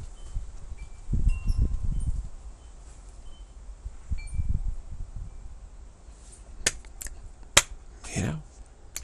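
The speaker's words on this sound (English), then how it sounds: "There's a little snap of the fingers" Finger snapping: a few sharp, crisp snaps late in the stretch, following low murmuring voices and room sound earlier, moderately close and distinct.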